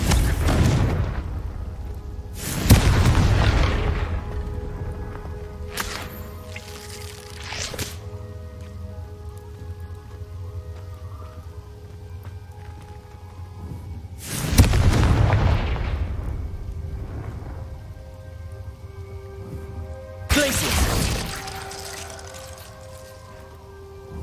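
Blasting curse explosions in the video game Hogwarts Legacy, four loud booming blasts spaced several seconds apart, each with a heavy low thump and decaying rumble over quiet ambient game sound.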